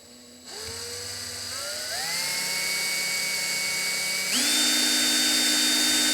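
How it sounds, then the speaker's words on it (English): An electric drill meant for drilling through a plastic computer case for a 2001 Mini-ITX build whirs loudly up close, its motor whine rising in stepped surges as it speeds up, alone without speech. "So I got a better drill here now."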